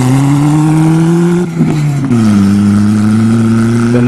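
A Ford Taurus, a Nissan 200SX and a Buick Regal race on a Friday night. Engines roar loudly and close as one rises in pitch, briefly shifts near the midpoint, then pulls on again at a steady high rev.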